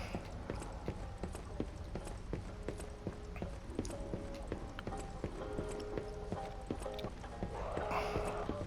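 Donkey hooves clip-clop steadily in the video game Lies of P, a run of near, distinct hoof knocks with game music and ambient effects underneath.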